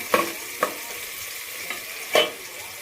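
Onions frying in oil until browned, a low continuous sizzle punctuated by four separate scrapes of a spoon stirring through the pan, near and without any voices.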